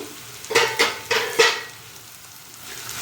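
Garlic cloves drop into hot oil in a frying pan while amla pickle is being made. The oil answers with three or four quick, loud bursts of sizzling and stirring, then settles into a quieter, fading hiss.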